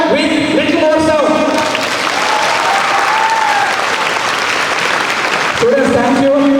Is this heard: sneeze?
no